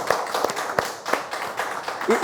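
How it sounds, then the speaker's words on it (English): An audience keeps clapping after a musical performance on a stage show, a dense patter of many hands with sharper individual claps standing out, close and loud, with a voice starting to speak at the very end. "Let's keep clapping, ladies and gentlemen."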